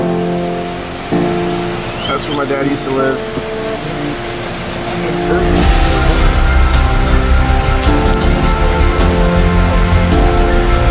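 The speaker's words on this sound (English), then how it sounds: "It's pouring rain." Heavy rain pours down in an alleyway in Colon, Panama, a dense continuous hiss that grows louder and fuller halfway through, with a person talking briefly over it.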